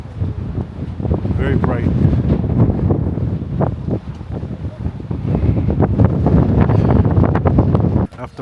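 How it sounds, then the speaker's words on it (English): Strong wind buffets the microphone continuously outdoors in the open near Interlaken, a loud rumbling roar with gusts, while a person speaks briefly over it before it cuts off near the end. "It's windy as soon as you get out in the open, but it's beautiful."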